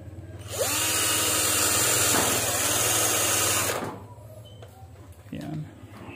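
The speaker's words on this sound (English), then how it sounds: "And then we will drill here." A power drill bores into an aluminum screen door frame, a loud steady whine that starts about half a second in and runs for three seconds before cutting off. Brief clicks and a short whir follow, with people talking nearby.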